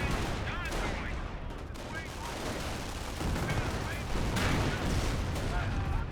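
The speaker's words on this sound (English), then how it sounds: "Got some artillery in off the power shoot from the US player." Artillery and gunfire in the strategy video game Company of Heroes: dense, continuous rattling shots and booming blasts layered together, loud and sustained across the whole stretch, with a voice faintly mixed into the battle noise.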